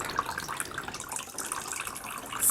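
Water pours onto the soil of a sparsely leaved alocasia houseplant, a close, continuous splashing trickle with bubbly gurgles, swelling slightly louder at the end.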